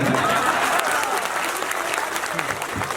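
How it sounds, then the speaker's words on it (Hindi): A crowd at a mushaira poetry gathering in Islampur, West Bengal claps in sustained applause, a dense wash of hand claps that holds steady then slowly thins, with some voices faintly mixed in. "आप चाहे तो ताली बजा सकते हैं"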